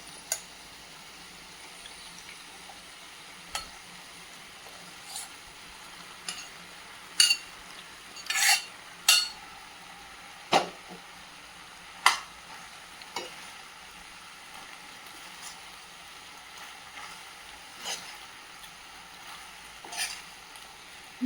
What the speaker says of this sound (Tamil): இந்த ஸ்டேஜில் நம்ம ஆல்ரெடி வேக வச்சு எடுத்து வச்சுருக்க பாஸ்தாவை ஆட் பண்ணிக்கலாம்